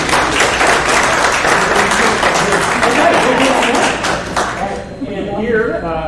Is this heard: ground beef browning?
no